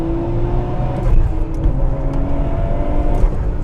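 A nearly stock Nissan R34 GT-R engine revs and pulls steadily at around 3,000 to 4,000 rpm on a smooth freeway. The loud, continuous drone holds under light road noise with no talk.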